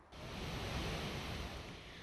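The Iguazu waterfalls on the Argentina-Brazil border, crescent-shaped cliffs of foaming torrents, make a dense, continuous roar that swells in quickly and stays loud and even.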